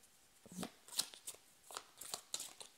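Tarot cards drawn and handled, giving soft papery flicks and slides in brief irregular bursts, close and quiet, with short pauses between the movements.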